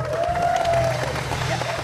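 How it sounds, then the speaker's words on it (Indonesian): Studio audience applause on an Indonesian live TV game show, a steady wash of clapping with some crowd noise and a voice rising above it for the whole short stretch. "Tepuk tangan dulu dong"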